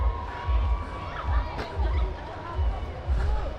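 A busy crowd fills the riverside at Dawki in Meghalaya, with overlapping voices and children's shouts close by, and low rumbling thumps recurring every second or so beneath the babble.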